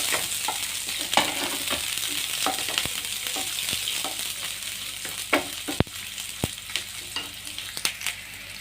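Onions frying in heated oil in a pan for macaroni, an even crackling sizzle with repeated distinct scrapes and knocks of a spoon stirring, close and clear with no talking.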